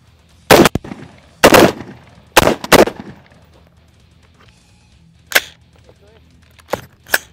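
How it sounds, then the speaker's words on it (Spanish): Rapid gunshots from a Colt AR-15 rifle fired while moving: four loud, sharp cracks in quick pairs early on, then three more spaced reports later, each with a short echoing tail over a quiet outdoor background. "Vamos a hacer unos disparos rápidos, a ver qué tal."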